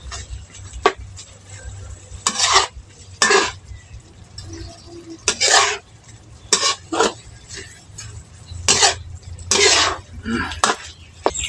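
Pork and holy basil leaves being stir-fried in a pan, with repeated bursts of scraping and clattering from a utensil against the pan, coming in uneven strokes close by.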